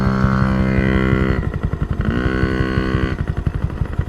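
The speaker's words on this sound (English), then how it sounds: "It's impossible to tell a 5-year-old riding a motorcycle not to do donuts where we would like to grow grass." A small Honda Monkey motorcycle ridden by a five-year-old circling on grass, its engine loud and close, throttle rising and falling in repeated revving surges with a pulsing exhaust beat.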